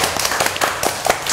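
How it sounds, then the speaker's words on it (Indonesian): Loud, dense applause from an audience at a presentation of an Indonesian electric motorbike company, with a rapid, continuous patter of hand claps sustained throughout. "Wih, boleh tepuk tangannya."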